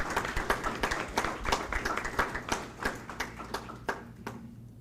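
An audience at a school board meeting gives a short round of applause for students, a sparse spatter of claps from a modest crowd that fades out toward the end.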